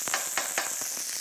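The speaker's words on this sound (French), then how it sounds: "je fais attention de bien arroser mon poisson pour finir la cuisson" Hot fat spooned over fish in a frying pan, a steady close sizzle broken by several short bright splashes as the fat is ladled over, no voices.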